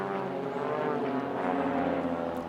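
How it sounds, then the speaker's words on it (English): A civilian aerobatic display team's aircraft at the Midlands Air Festival, giving a steady, loud propeller engine drone that holds evenly throughout, heard alone without talk. "As soon as one group of aircraft departs, another arrives."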